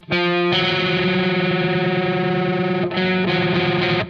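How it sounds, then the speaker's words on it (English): A sustained, heavily distorted guitar chord with a major seventh against the root rings out harsh and dissonant, briefly cut off near the end before sounding again, with no talking. "the major 7 being 1 semitone apart sounds horrible if you play it with the root"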